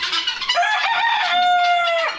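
A rooster on a farm crows once, close and loud, in a long, rising, strained call that holds before breaking off, with some clucking from other chickens around it.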